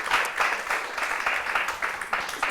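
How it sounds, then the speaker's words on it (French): A debate audience at a public talk on sharing water breaks into applause, a steady crowd of clapping that is moderately loud and continuous throughout, with no talking over it. "Vous avez de nouveau des applaudissements."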